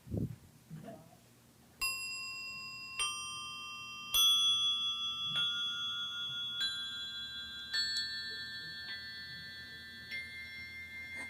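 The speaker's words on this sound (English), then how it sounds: "can you make it so that the sound of the bells goes lower?" Handbells or tone bars struck one after another in a Montessori classroom lesson, seven or so ringing tones that step downward in pitch, each chime sustaining and overlapping the last, clear and fairly close with a faint room murmur.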